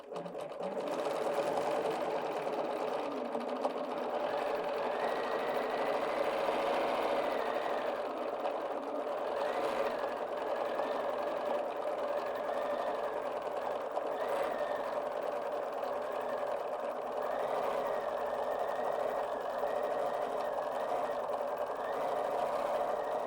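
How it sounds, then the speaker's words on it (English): A Bernina 770 QE Plus sewing machine stitches fabric in a steady, continuous mechanical whir with a slight rise and fall in speed, running close and alone for over twenty seconds. "So the faster I move the fabric, the faster the machine will sew."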